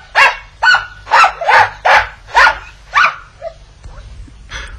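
A small Spitz dog in a radio drama of Chekhov's The Lady with the Dog gives seven loud, sharp barks in a steady rhythm, then trails off into softer whimpering yips.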